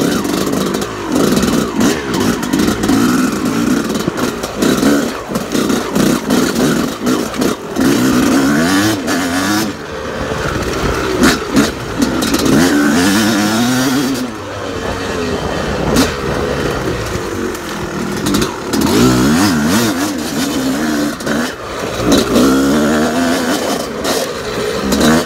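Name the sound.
motorcycle riding a lap at a moto ranch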